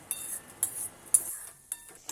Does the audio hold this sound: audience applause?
no